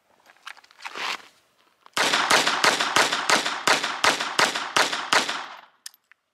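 A Phoenix HP22A .22 pistol fires about ten sharp shots in a quick, steady string at an outdoor range, close and loud, after a few softer handling noises.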